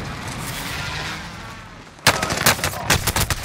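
Bursts of gunfire in Call of Duty Warzone (Vanguard era): several sharp, loud shots cracking in quick clusters after a stretch of low ambient game noise, with no talking.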